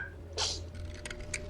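A single short, sharp sneeze bursts out once, near and fairly clear over a low steady background hum, with faint clicks and small noises after it.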